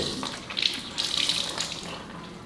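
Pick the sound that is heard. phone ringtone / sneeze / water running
water running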